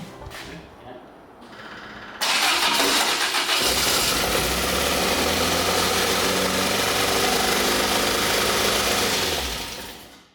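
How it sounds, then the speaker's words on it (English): After a brief cranking, a newly installed race engine in an ex-works MGB bursts to life and settles into a harsh, busy roar that runs steadily close by before cutting off. "it was time to finally fire up the car for the first time"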